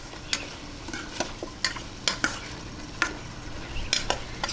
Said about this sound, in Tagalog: ngayon pagkalagay ng carrot, mga 1 minuto ko lang pong ginisa